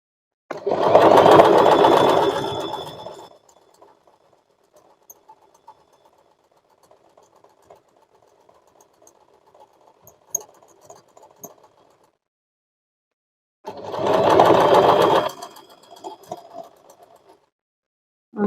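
An Usha Janome Allure DLX sewing machine stitches in two loud, close bursts of rapid mechanical whirring, each lasting a few seconds. Between them is a stretch of faint ticking and handling noises.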